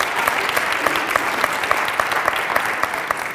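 A meeting audience in a fellowship hall claps for the interpreters, a steady, fairly close round of applause from a modest crowd that continues evenly throughout.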